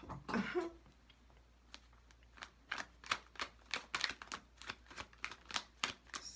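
A deck of cards riffled and snapped in quick bursts, close and crisp, with short pauses between shuffles and no talking.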